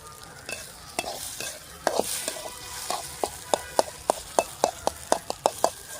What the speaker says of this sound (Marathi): आता याला थोडंसं हलवून घ्यायचं आणि याला 5 मिनिटं झाकून ठेवायचं